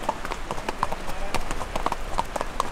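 Horses' hooves clip-clop on a dirt road on a trail ride in the Sacred Valley, a quick, uneven rhythm of close, distinct strikes, with some faint speech-like sound underneath.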